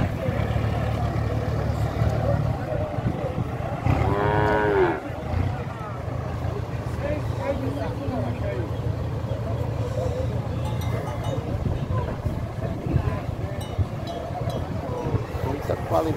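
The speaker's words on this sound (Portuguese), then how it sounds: "Vou pegar aqui o desembarque do gado" Cattle being unloaded at a livestock fair in São Benedito, Ceará, with a single clear moo rising mid-clip over a steady, noisy backdrop of engines and yard commotion, plus fainter lowing afterward.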